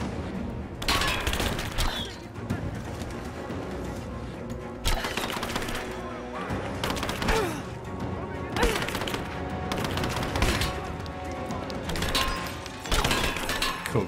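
Explosions and bursts of gunfire in the Rise of the Tomb Raider video game, loud repeated blasts and rapid shots in clusters over a dense battle din with a voice talking at times.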